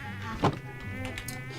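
Buzzing bees in the village-building game Banished make a thin, steady hum with harmonics, and a short louder bump cuts in partway through.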